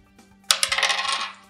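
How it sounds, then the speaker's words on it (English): Dice rolled during a board game land in a sudden clatter, then rattle through a string of quick bounces that settle over about a second, heard alone. "player 3 rolls the dice to leave"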